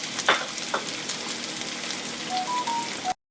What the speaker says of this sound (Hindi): मैं जो हूँ वो 4 टेबलस्पून जो प्याज है वो ऐड करूँगी। और इसको हम अच्छे से मिक्स कर देंगे।